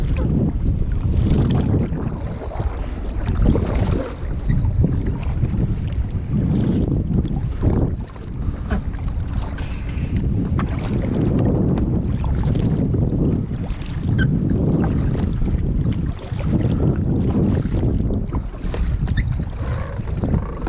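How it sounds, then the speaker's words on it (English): Kayaking on water near Stavanger, Norway, with a steady wash of water and paddle splashes under strong wind buffeting the microphone, continuous and close. "We are kayaking in Stavanger."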